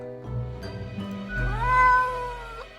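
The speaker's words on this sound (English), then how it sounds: "the cat answers with a meow of uncertainty" A cat meows in the video game Death and Taxes, a drawn-out, wavering call rising and falling over about a second. It sits close and clear over a steady low musical drone.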